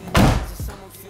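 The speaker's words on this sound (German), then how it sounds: "Wie die Tür zufällt." The door of a BMW E36 coupe swings shut with a single solid, close thunk, followed by a softer second knock.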